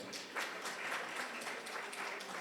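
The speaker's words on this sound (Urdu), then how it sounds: "آپ کی تالیاں جاری رہنی چاہیے." Audience applause at a national conference on children's literature, a steady wash of moderately faint clapping that holds evenly throughout without pause.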